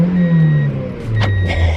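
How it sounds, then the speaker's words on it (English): A small car's engine revs briefly as the gas pedal is pressed by accident, a loud low rumble that rises and falls with a couple of higher surges, heard up close from inside the vehicle. "This car is so small that my foot was on the gas by accident."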